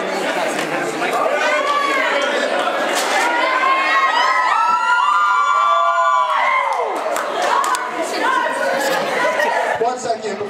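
Crowd at a live performance at The Old Armory, loud mixed cheering, shouting and chatter with laughter running continuously, including children's shrill voices, swelling in the middle.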